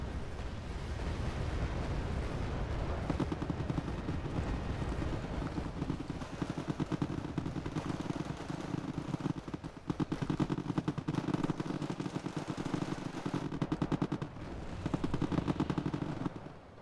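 Artillery shelling in the war strategy game Wargame: Red Dragon, heard as rapid, continuous gunfire and explosions at a steady loud level throughout the battle at an airport.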